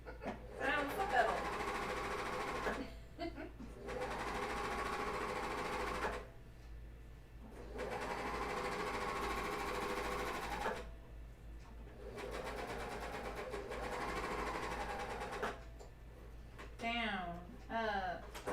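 A serger stitching underwear fabric runs in three long, steady bursts separated by short pauses, with a low constant hum beneath and a brief voice at the very end.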